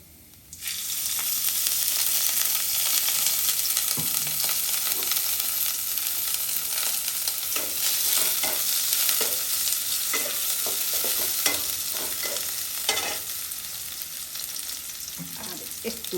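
Potatoes and onion sautéing in oil in a cooking pot, a steady close sizzle throughout with occasional scraping stirs and light clinks, no talking.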